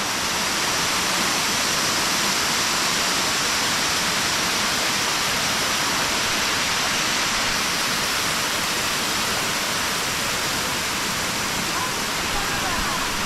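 Katoomba Falls waterfall in Blue Mountains National Park, heard as a steady, dense roar of falling water that stays constant and fairly loud throughout, with voices faintly present beneath it.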